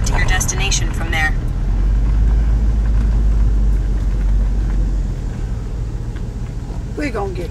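A car drives along with a loud, steady low engine and road rumble that fades as it slows to park; a person speaks briefly at the start and again near the end.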